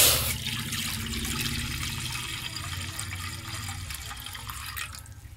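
Two glasses of water poured steadily into a pot to make sugar syrup for gulab jamun, a continuous close splashing gush that runs unbroken for several seconds without talk.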